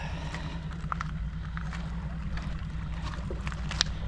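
Boat engine rumbles low and steady as the boat pulls away from a remote island shore, under a faint wash of wind and water with small scattered clicks.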